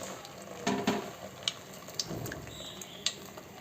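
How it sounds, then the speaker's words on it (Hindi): Chicken shami kababs dipped in egg sizzle in a pan with a soft steady frying hiss, punctuated by a few sharp crackles and clinks as pieces are placed and turned. "ये अंडे में डिप करके फिर आपने फ्राई करना है"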